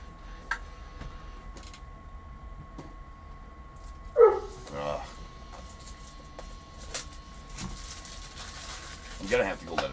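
A dog barks and whimpers from behind a closed door, muffled and somewhat distant, in two brief bursts over a steady room hum.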